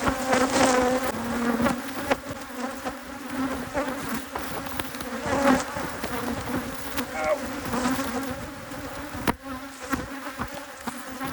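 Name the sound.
swarm of Africanized bees buzzing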